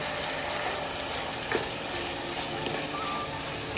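Onion with red and green chilies frying in a pan for chicken roll masala, a steady broadband sizzle running evenly throughout with a few faint clinks and stirs.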